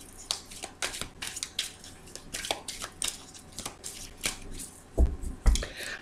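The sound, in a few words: cutting a deck of oracle cards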